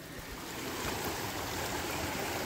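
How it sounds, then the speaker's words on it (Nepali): A mountain stream rushes through a narrow gorge in Nepal, a steady, even wash of flowing water heard close and alone, without talk. "यता त पानी खोलै बग बग्दै रहेछ त पुरै"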